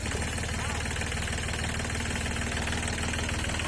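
A 40-horsepower Kubota tractor's diesel engine runs with a steady, loud, close knocking chug while it is tow-started, a continuous drone with no talking.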